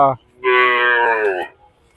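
A single cow or bull moos loudly and close by at a busy cattle market, one long call lasting about a second, with a brief voice just before it and faint crowd murmur around.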